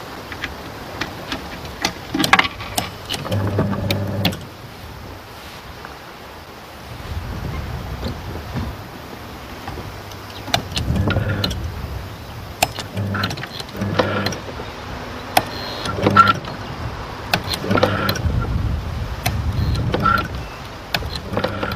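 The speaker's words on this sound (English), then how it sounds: "This is a nutcracker I made for an exhibition." A homemade electromechanical nutcracker machine built for an exhibition, its relay-controlled motor whirring in bursts with clicks and clatter, fairly close, with no talking.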